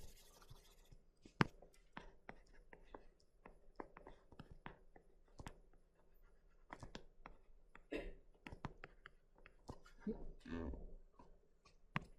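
Marker or chalk strokes on a board while a circuit diagram is drawn, with soft repeated scratchy taps and squeaks spread through the stretch, fairly quiet and without talk.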